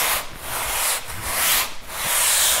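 A sanding block rubs back and forth over Fermacell smoothing filler on a wall, making loud, close, hissing strokes in a steady rhythm of about three long passes.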